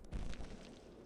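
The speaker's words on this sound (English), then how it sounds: "I will use one bomb" A single bomb detonates in the Isle of Arrows video game, giving one short, deep boom with a rumbling low-end tail that fades quickly; no voices.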